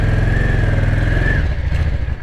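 A Yamaha Dragstar motorcycle engine runs close by, with a loud, throbbing low exhaust beat and a rising rev that eases off near the end, no talk over it.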